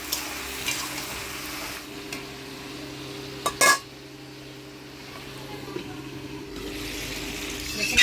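Aair fish curry simmers in a pot with ground ginger, cumin and radhuni paste, a low bubbling sizzle with occasional ladle knocks and one loud clatter against the pot.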